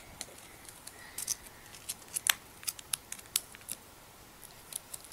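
Scissors snipping open a plastic bag holding clear FLARP putty, a run of sharp, crisp cuts and crinkles at close range, irregular and without talk.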